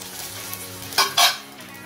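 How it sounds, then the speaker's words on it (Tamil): Pointed gourd (parval) gravy stirred in a pan, a steady low simmering sizzle with two short, louder scraping bursts of the spoon against the pan near the end. "இந்த கலரி விடுறேன்"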